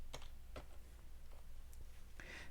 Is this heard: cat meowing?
no